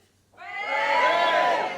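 A comedy-show audience bursts into loud, sustained cheering and whooping after a brief quiet moment, the crowd noise swelling and holding steady to the end.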